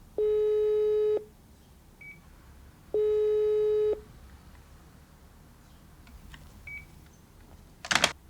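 Telephone tone on a phone line cut off in wartime Paris, spring 2003: two long steady electronic tones about a second each, separated by a pause, followed by faint quiet and a brief rustling burst at the end, with no talk.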